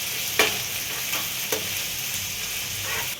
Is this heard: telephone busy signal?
no